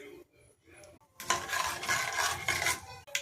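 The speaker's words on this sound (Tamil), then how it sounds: "கடுகு பொரிஞ்சிடுச்சு" Mustard seeds spluttering in hot oil in a kadai for a simple beans poriyal, a soft scrape at first, then a dense, fizzy crackle of tiny pops that runs steadily to the end, fairly quiet and close.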